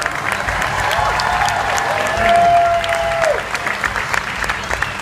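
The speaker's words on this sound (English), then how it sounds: "Let's give a big round of applause as they make their way back." At a Star Wars Weekends stage show, a crowd applauds steadily while a faint voice talks over it and a brief whistle-like tone rises, the clapping staying moderately loud throughout.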